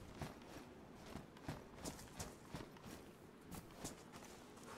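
Footsteps in the survival video game DayZ at Stary Sobor, a steady run of soft, evenly spaced thuds at moderate distance with no talking over them.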